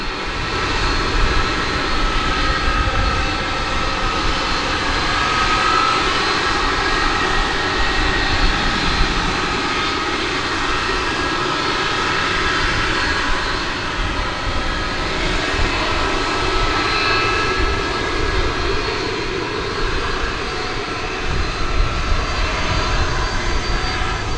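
Jet airliners roar continuously at DFW Airport, a loud, sustained engine rumble with a broad steady wash of noise that never lets up for the whole stretch, as if close to the runway.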